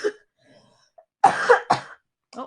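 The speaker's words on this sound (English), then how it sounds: "Here I go again with my cough." Several harsh coughs close up, a quick cluster of hacking bursts with a short throat-clearing sound, then a final softer cough.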